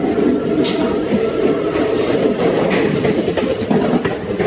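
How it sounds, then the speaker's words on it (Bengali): The Pinakini Express, running from Vijayawada to Chennai Central, rolls into a station platform with a steady, loud rumble, rhythmic wheel clatter and faint high squeals, and no voices. "প্ল্যাটফর্মে গাড়ি এলো two seven double one Pinakini express"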